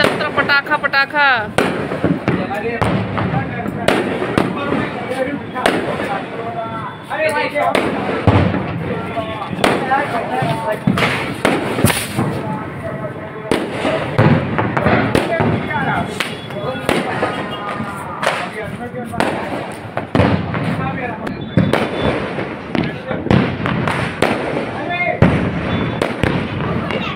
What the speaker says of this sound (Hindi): देखिए पटाखा का एंजॉय पूरा चलता